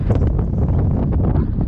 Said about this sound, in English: A very blustery day.